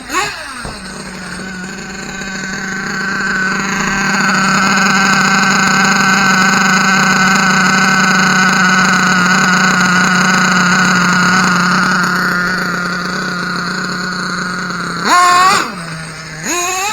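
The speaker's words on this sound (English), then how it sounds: "this truck's got such a noisy trans" A heavy Mack truck hauling a tank drives with a loud, sustained transmission whine and engine drone that swells and holds, then shifts pitch near the end.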